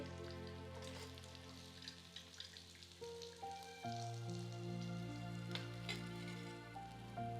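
Pieces of fish coated in masala sizzle steadily in a hot frying pan, a continuous crackling hiss running under loud background music.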